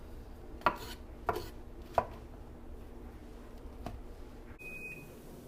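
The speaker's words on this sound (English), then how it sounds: "So you hear that beeping? That's the pie crust." Three sharp knife chops on a cutting board, then a short electronic oven timer beep near the end signalling a pie crust blind baking at 350 degrees.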